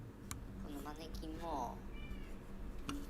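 A cat meows in a ghost video, with several wavering cries standing out over steady background noise while a voice talks across them.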